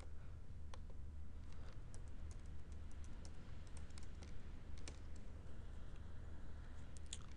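Rapid, uneven typing on a computer keyboard as a password is entered, with scattered sharp key clicks over a steady low background hum, close and fairly quiet.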